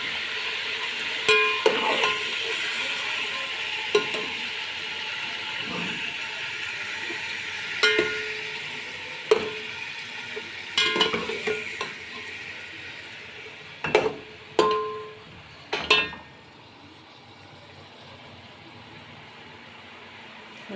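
Beef sizzles in a pot for bhuna gosht with garlic-ginger water just added. A steady frying hiss runs underneath while a spoon stirs, knocking and scraping against the metal in scattered clinks.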